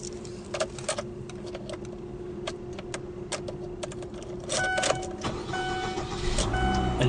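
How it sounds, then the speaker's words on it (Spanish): A 2016 Chevrolet Aveo automatic cranks and starts nearby, with a steady hum and clicks first, then the engine catching and settling into a louder, fuller idle toward the end. "El vehículo enciende correctamente,"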